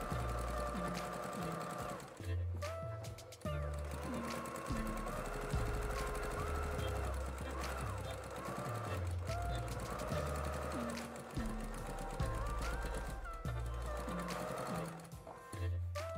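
A domestic sewing machine stitches binding onto a quilt with a steady, close mechanical whir that runs for most of the stretch, briefly pausing a few times, over a tonal backing.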